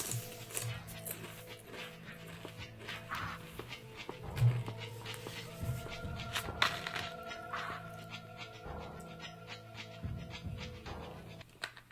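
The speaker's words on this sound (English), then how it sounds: "Watch out for the dogs." Dogs in the video game Shadow Man, with whimpering and yelping bursts over a busy backdrop of game music and effects, fairly loud at moments.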